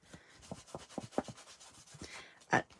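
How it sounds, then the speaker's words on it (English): A soft cloth rubbing gilding flakes over a tray, quiet rhythmic brushing strokes repeating about twice per second, close and faint, with one firmer rub near the end. "And I'm just rubbing it with my soft cloth."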